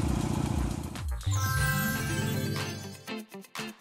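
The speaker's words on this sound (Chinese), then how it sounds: "嘿，那是我的摩托车。" A cartoon motorcycle revs and rides off, a buzzy engine drone that rises in pitch and pulls away, mixed with bright tonal music and a few abrupt bursts at the close.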